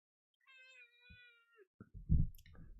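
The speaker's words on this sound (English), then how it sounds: "Kitty cat." A cat in the game Don't Starve Together gives a clear, drawn-out meow, followed by a few soft clicks and a short low thump, with nothing else around it.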